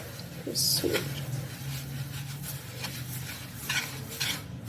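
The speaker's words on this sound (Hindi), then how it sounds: "एग वाइट डाल रही हूँ जो कि 100 ग्राम है। इनको अच्छे से ना हमने बहुत अच्छे से मिक्स करना है" Egg whites being mixed in a bowl for coconut macaroon cookies, with a spoon scraping and clinking against the bowl in short, quiet strokes, someone talking softly between them.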